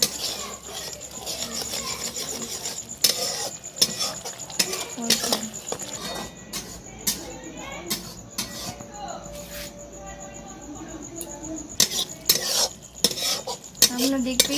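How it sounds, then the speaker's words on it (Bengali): Utensil scraping and clinking in a pan as masala is sautéed for Bengali dhaba-style egg tadka, with steady stirring clatter and faint sizzling close by, no talk. "ভালো করে এটাকে কষিয়ে নেবো"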